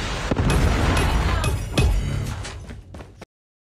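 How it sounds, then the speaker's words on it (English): A Predator missile strike exploding in a video game: a dense, loud rumbling boom with crackling debris and scattered sharp bursts, sustained for about three seconds before cutting off abruptly, no voices. "Predator missile inbound."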